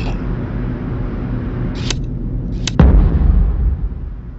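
A few sharp game-style bangs, the last a heavier booming bomb blast with a rumbling tail, over a steady low background, in the game Nancy Drew: The Deadly Device.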